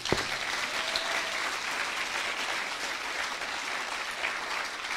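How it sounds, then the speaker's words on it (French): A church congregation bursts into sustained applause that fills the room, steady and dense from start to finish with no speech over it. "on acclame le Seigneur et on finit"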